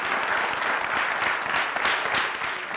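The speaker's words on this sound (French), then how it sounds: "Je vais vous demander de faire beaucoup d'applaudissements pour eux." Sustained applause from an audience, a dense, even clapping that fills the room and continues steadily throughout.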